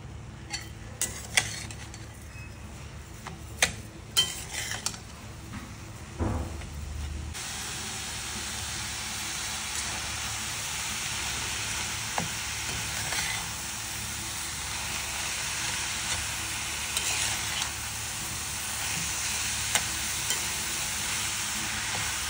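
Coconut barfi mixture of grated fresh coconut and sugar stirred in a pan, giving a long, steady sizzling hiss broken at first by a few spoon scrapes and knocks, close and moderately loud.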